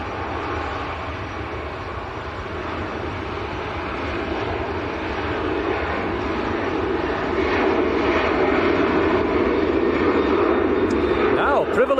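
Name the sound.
Ryanair jet airliner taking off at Manchester airport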